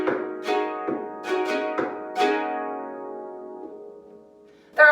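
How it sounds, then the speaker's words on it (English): Harp nail glissandos mixed with knocks on the soundboard, several quick bright sweeps and dull taps in succession, ending in a long ringing decay, with one more sharp attack at the very end. "So if I made something up and did a couple nail glisses with some knocking, it would sound like this."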